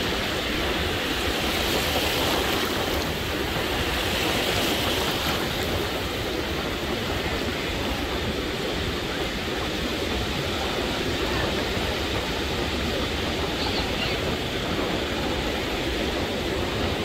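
Steady, loud roar of ocean waves breaking against the beach jetties at Tampico, a continuous broadband wash of surf with no voices.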